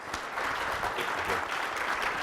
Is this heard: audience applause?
yes